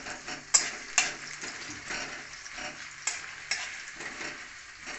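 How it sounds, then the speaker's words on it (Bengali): Onions sizzle and fry steadily in a pan, with a few sharp clicks of a utensil stirring or tapping the pan, close and moderately loud with no talking. "পেঁয়াজটা হালকা ভাজা হোক।"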